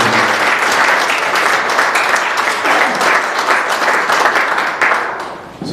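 An audience at a college athletic hall of fame induction ceremony applauds steadily, with dense, loud clapping that fills the room and tapers slightly at the end.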